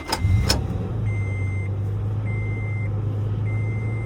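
A 2008 Toyota FJ Cruiser idles close by after start-up, two sharp clicks opening into a steady low engine hum, while a soft chime beeps on and off in repeated short bursts.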